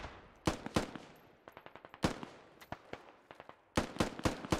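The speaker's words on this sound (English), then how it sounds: "They are shooting the windows" Bursts of automatic gunfire from the video game Squad, shots aimed at windows, arriving in rapid clustered volleys with short pauses between them, loud and close, no talk.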